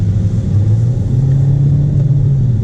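A Kia Seltos with a CVT transmission accelerating, a loud, low, steady engine drone climbing smoothly in pitch without gear shifts, heard from inside the cabin.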